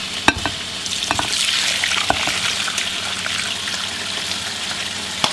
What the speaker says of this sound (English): we're going to let it simmer in here for a couple of hours